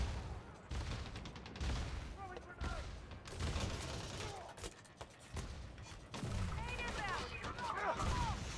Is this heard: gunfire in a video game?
yes